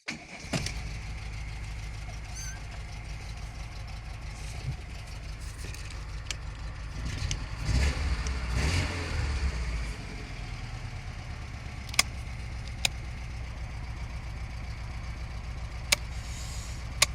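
A VAZ car engine with a carbureted motor shaking at idle runs steadily and fairly quietly, rising into a brief rev midway before settling back, with a few sharp clicks toward the end.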